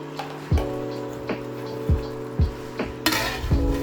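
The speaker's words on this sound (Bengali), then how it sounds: "একটু লাড়বেন ভালো করে, উল্টাইয়া পাল্টাইয়া" A utensil repeatedly scrapes and turns fish heads in a pan with cucumber, sounding as sharp metallic knocks roughly every half second over a low sizzle, with a brief hissing burst near the end.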